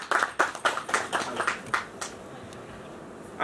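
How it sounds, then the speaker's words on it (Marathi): Audience applause for a guest called onto the stage, a short run of rhythmic clapping that fades out after a couple of seconds. "एकदा जोरदार टाळ्या त्यांच्यासाठी झाल्या पाहिजे."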